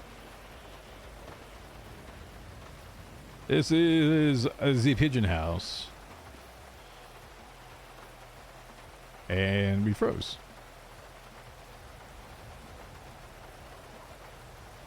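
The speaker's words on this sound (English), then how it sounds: "Oh my God, there's rain." Steady rain falls outdoors at a house, a soft, even hiss that runs throughout, with people briefly talking over it twice.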